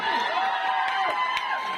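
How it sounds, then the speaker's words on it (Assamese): An audience at a Sonitpur Polytechnic College event breaks into steady crowd noise, with cheering, whoops and applause blending into a continuous roar with a few sharp accents. "চাওকচোন এটা হাত চাপৰি"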